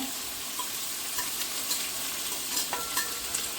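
Ginger, green chili and garlic sautéing in oil in a pan, a soft continuous sizzle with occasional clicks and scrapes of a spoon stirring.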